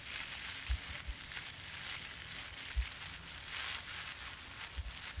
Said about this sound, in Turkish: Her iki tarafını da öncelikle biraz kızartıyorum hafif.